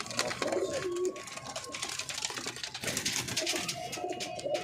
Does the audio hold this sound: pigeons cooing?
yes